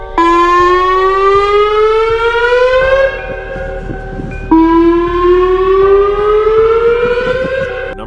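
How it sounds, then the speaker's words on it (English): A WS2000R civil defense siren wails loud and close, its pitch sweeping upward in two long rising cycles with a brief dip between them. "Number 2, WS2000R. This siren really broke my ears."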